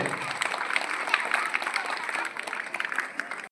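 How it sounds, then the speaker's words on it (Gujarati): A room of schoolchildren claps in a brisk, scattered patter that holds steady, then thins and fades near the end, with faint voices mixed in. "તાળીઓના ગડગડાટથી વધાવીએ આપણે નાના નાના ભૂલકાઓને"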